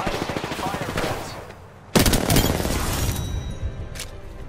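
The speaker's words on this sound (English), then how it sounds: "I'm taking fire, friends." Automatic weapon fire in the Apex Legends battle royale game, with rapid bursts crackling through the first two seconds, then a loud sharp onset of heavier sustained gunfire and impacts close by.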